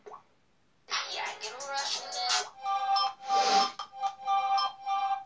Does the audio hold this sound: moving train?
no